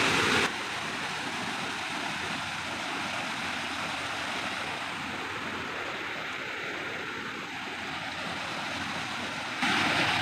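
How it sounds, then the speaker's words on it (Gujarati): A strong, foamy current of water rushes through a village channel near Botad, Gujarat, as a loud, steady, unbroken roar of flowing water with no voices. "તમે અવાજ ઉપરથી જ કળી દઈશો કે કેટલું તણાસ છે પાણીનું"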